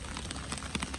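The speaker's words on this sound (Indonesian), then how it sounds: "Hujan-hujan." Heavy rain at a muddy extreme off-road site where a truck struggles to get out, a steady dense patter of drops on surfaces, continuous and fairly close throughout.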